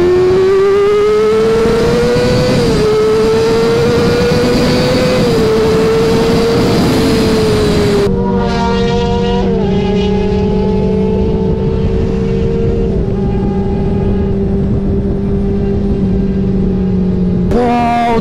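A Kawasaki ZX6R inline-four motorcycle with an aftermarket exhaust revs loudly and close. The smooth, high-pitched note rises and falls in steady pulls, then drops to a lower sustained rev with a few quick blips, and no one speaks.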